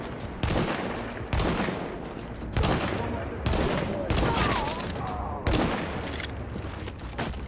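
Rapid bursts of incendiary rounds from a gun in The Division, a shooter video game, loud and close, coming in repeated volleys of several seconds with short gaps between them.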